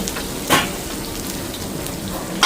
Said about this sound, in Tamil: வெங்காயம் எல்லாம் வதங்குது.